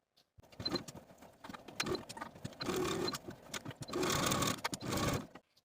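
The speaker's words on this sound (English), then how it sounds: "I'm going to take it to my sewing machine and sew with a 5/8 inch seam allowance" A sewing machine runs in several bursts of rapid mechanical stitching along a seam, stopping and starting, close and fairly quiet.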